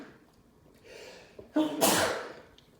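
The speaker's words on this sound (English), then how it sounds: "Sorry, I have to sneeze." A single loud human sneeze bursts out close to the microphone after a short sharp inhale, with a faint breathy build-up before it.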